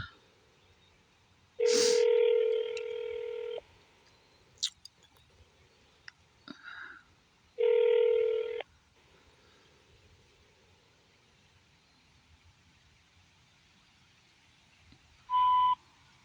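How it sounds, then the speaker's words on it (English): Electronic telephone tones on a bogus number: two long steady multi-tone beeps a few seconds apart, then a short higher beep near the end, with faint clicks between and a quiet line hiss throughout. "There's a bogus voicemail with nothing on it, and it just beeps or whatever."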